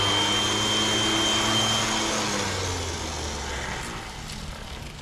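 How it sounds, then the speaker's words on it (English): An orbital sander strips paint from a car brake caliper on an R34, giving a steady, loud, close motor whine with a broad grinding hiss that eases slightly toward the end, with no voices. "I'm gonna try with the orbital sander"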